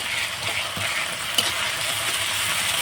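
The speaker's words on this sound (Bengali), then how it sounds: "তো এই মশলাটা একটু কষিয়ে নেব" Ground ginger, garlic and dried chili paste fries with onions in hot oil, a steady close hiss and crackle with occasional soft scrapes of stirring, broken by one brief sharp tap.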